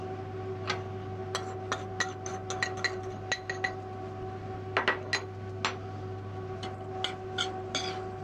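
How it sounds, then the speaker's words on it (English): Black currant cassis sauce with lemon juice and sugar is stirred in a pot, with a run of bright clinks and ticks of a utensil against the pot over a steady kitchen hum. "Einmal kurz durchrühren"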